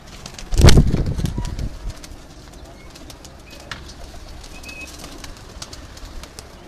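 Pigeons on a Lahore rooftop coo softly amid a brief burst of wing flapping up close, then low murmuring bird calls continue in the background.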